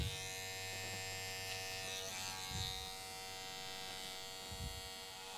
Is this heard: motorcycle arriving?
no